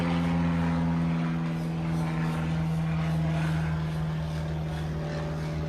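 An airplane passes overhead outdoors, a steady loud droning engine roar with a low hum that holds throughout, heard alone without talk.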